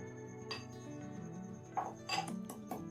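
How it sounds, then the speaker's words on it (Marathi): Garlic, onion, ginger and cumin are pounded in a mortar and pestle with a few faint, irregular clinking knocks over a quiet background and no talk. "लसण कांदा अद्रक जिरं खलबत्त्यात टाकून बारीक कुटाचं काम चालू आहे"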